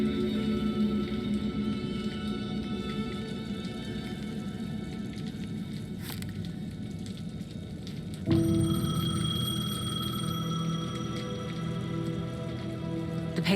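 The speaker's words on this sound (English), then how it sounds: "The payphone was ringing." Payphone ringing in the game Alan Wake 2, faint repeated bell tones over a steady rain-like ambience, a sharp click partway through, then a brighter, louder ring-and-hiss texture continuing to the end.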